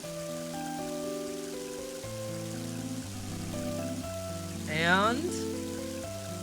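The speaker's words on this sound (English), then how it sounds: "Whoa! It's raining!" Rain falls in the game Mother 3, a soft hiss beneath tonal game music, while a voice speaks briefly near the end.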